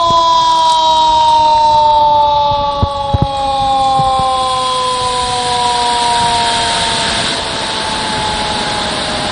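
A loud, steady flood warning siren at a dam wails with slowly falling pitch, sounding continuously, with a couple of brief thumps partway through.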